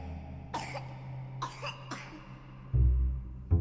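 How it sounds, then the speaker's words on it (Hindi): Someone near a window coughs in a sound effect for a spoken story: three short, separate coughs close by, followed by a couple of dull low thumps, with no speech. "वो खांसने की आवाज बिल्कुल विंडो के पास से आ रही थी"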